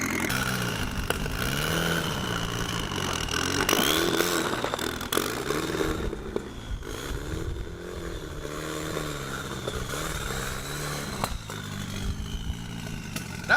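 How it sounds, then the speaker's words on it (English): A car does a burnout, spinning its front wheels while the engine revs hard. The raw, loud, continuous roar shifts up and down in pitch throughout. "You're burning out the front!"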